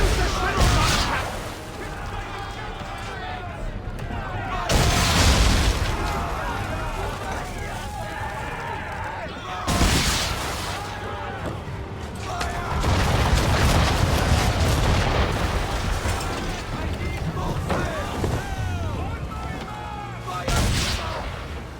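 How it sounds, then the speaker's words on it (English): Loud, repeated cannon blasts and swivel-gun shots ring out during an Assassin's Creed 3 naval battle, heavy booms arriving every few seconds over continuous battle noise, with voices shouting throughout. "Sink the bastard! Use the swivel gun, Captain!"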